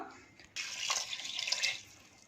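Water is poured into a pot of raw rice and lentils for sambar rice. The gentle splashing stream starts abruptly and runs steadily for under two seconds before tapering off, quiet and close, with no talk.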